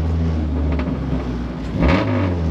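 A K-swapped Honda Civic EG accelerates loudly on a short straightaway by a shop, its engine droning close and steady before swelling into a harder rising surge near the end.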